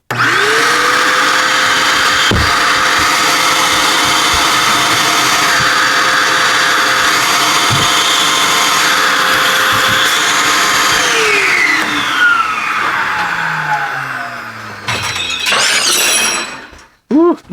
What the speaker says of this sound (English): When I turn on the vacuum, now this might get kind of loud.